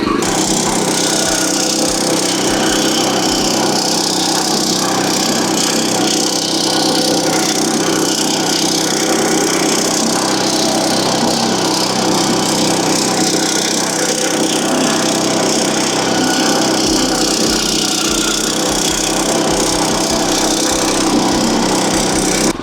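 A Firman FTL610W cultivator fitted with a ditcher blade digs a trench, its small engine roaring steadily and loudly while the blade churns through soil, continuous and close throughout.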